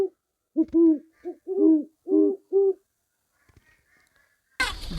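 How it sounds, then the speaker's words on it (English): An owl hooting in a quick series of about six clear, close hoots, followed by a few faint calls and a short burst of noise at the end. "owl,"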